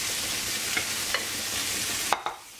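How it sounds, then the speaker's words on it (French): Cod sizzling in a pan of oil with onions and garlic, a continuous bright hiss with a few light clicks of stirring that grow sharper near the end. "je vais mettre mes oignons et mon ail dans une poêle avec de l'huile et je vais les faire revenir"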